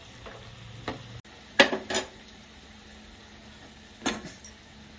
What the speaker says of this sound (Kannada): ಒಂದು 10 ನಿಮಿಷ ಚೆನ್ನಾಗಿ ಬೇಯಿಸ್ಕೊಂಬಿಡಿ ಎಣ್ಣೆಯಲ್ಲಿ